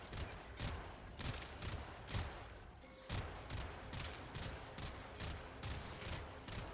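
In the game Warframe, a sniper rifle is held on continuous fire, letting off a fast, regular run of sharp, punchy shots that are quiet and somewhat distant, with one short pause near the middle.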